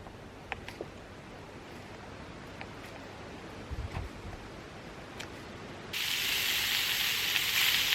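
Foraged mushrooms frying in a pan at an outdoor bushcraft breakfast: quiet woodland ambience with a few small clicks, then a sudden loud, bright sizzle bursts in near the end and continues steadily.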